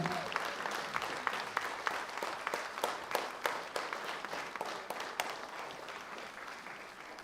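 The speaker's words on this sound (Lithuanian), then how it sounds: "Jūsų plojimai" Quiet applause fills a hall at a jubilee concert celebrating ten years of creative work, with individual hand claps standing out distinctly through a soft, steady patter.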